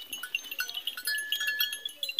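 A goat with black ears and a dark face bleats at a farm compound that keeps goats of many breeds. The bleats are thin and come in repeated bursts at close range over a busy, scratchy background, with no talk.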